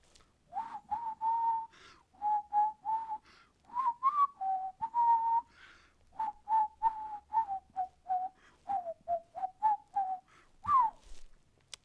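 A person whistles a simple tune of short repeated notes near a steady mid pitch, with brief pauses between phrases, clear and close in a quiet room.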